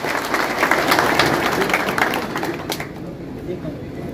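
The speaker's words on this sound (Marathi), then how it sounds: "सगळ्यांनी एकदा जोरदार टाळ्या वाजवा" A crowd at a political supporters' gathering in Angar applauds the leader, with dense clapping that is loud at first and then thins and fades, while a voice speaks over it.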